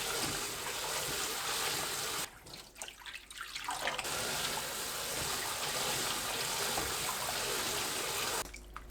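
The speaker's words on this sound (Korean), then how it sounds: "전체적으로 초록색이 되면 바로 찬물에 두세 번 헹궈주세요" Cold tap water runs steadily into a sink while blanched gompi seaweed is rinsed, a continuous close splashing rush that dips briefly midway, then resumes.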